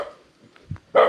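A single short dog bark closes a brief quiet stretch, preceded by a couple of faint knocks and soft sounds.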